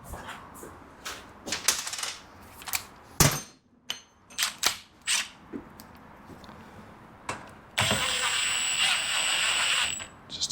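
A wrench ratcheting as bolts are snugged down while assembling a Revelry 700cc kit, quick close clicking bursts in irregular bunches, then a sustained brighter ratchet run near the end.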